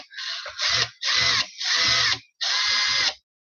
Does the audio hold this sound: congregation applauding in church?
no